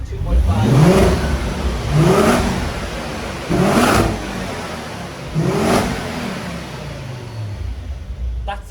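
A 2011 Ford Focus RS MK2's 2.5-litre, 305-horsepower engine revs hard four times in bursts, each rising roar falling back to a steady idle between, close and loud.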